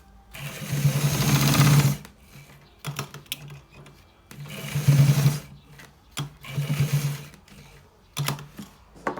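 A sewing machine stitches a designer shirt collar in several bursts of rapid, whirring needle strokes. The bursts are loud and near, separated by pauses, with no talking.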